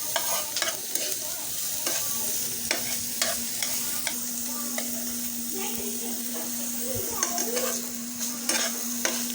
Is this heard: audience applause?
no